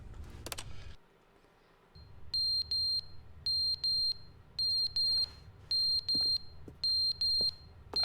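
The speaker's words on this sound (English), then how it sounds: "There's beeping." High electronic alarm beeps in the video game The Stanley Parable repeat in steady pairs, fairly loud and insistent, over a low background hum after a brief burst of noise.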